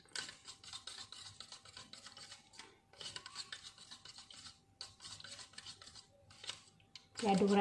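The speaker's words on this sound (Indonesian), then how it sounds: "kemudian dua bahan ini kita aduk sampai bahan ini mengental" Homemade hair treatment made with Bear Brand milk, stirred in a bowl with a utensil, giving steady scraping and rubbing sounds in quick, rhythmic bursts that stay close and fairly quiet, ending with a short louder knock.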